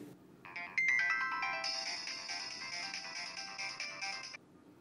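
A mobile phone ringtone plays a bright, repeating electronic melody for several seconds against a quiet room before it cuts off.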